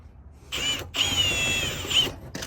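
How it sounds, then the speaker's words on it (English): A power drill drives sheet metal screws into the underside of a camper, two close whirring bursts separated by a short pause, then a brief start at the end, with no voices. "We're putting sheet metal screws all up it, so this whole under base doesn't just drag along the road."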